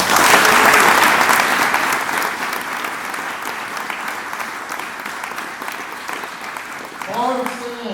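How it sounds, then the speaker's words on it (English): A conference audience applauds loudly, clapping fading slightly over the seconds, with a voice starting to speak near the end. "We can give him a round of applause."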